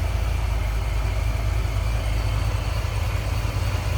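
A supercharged 2004 Chevrolet Corvette convertible with a Vortech V3 supercharger idles close by, a steady, loud low rumble with a slight lope and no voices.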